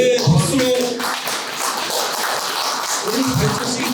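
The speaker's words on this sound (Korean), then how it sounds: "예, 박수로" Clapping rises from the crowd at the inaugural gathering of a memorial society in Daejeon, a steady patter of many hands with voices speaking at the start and end.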